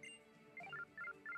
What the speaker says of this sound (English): I'll answer this so it stops ringing.